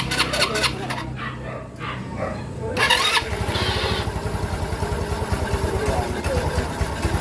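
A motorcycle engine being tested after a belt replacement, first revving unevenly, then settling into a steady, close, rhythmic idle that runs continuously without stumbling.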